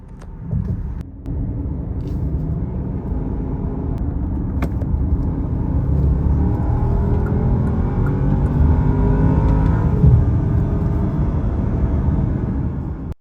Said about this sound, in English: let's experiment with driving the car in sport mode